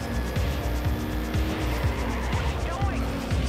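In the Trackmania Turbo racing game, a car skids out of control and flips, with a loud continuous engine roar, tire squeal and repeated scraping impacts throughout.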